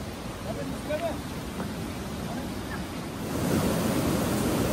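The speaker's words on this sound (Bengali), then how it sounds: "শুনতে পাচ্ছেন জলের স্রোতের শব্দ কেমন জোরে বয়ে যাচ্ছে।" A river current rushing beneath a short footbridge, about 42 metres long, on the Silk Route between Zuluk and Aritar, heard as a steady, broad roar of flowing water that swells slightly louder toward the end.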